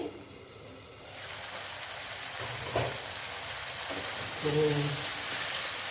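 Spiced masala for ghugni sautéing in a pan, a steady soft sizzle that begins after a quiet opening second, with a few brief louder scrapes or stirs along the way.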